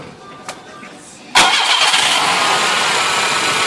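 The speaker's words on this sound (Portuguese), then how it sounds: "Dá partida aí, Didio." A carbureted Quantum car with automatic transmission is cranked and starts at about 1.4 s, then settles into a loud, steady idle after a faint click earlier on.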